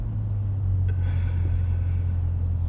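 Inside a 2024 Cadillac CT5-V Blackwing on the move, its V8 gives a steady, deep low drone with road rumble, constant throughout.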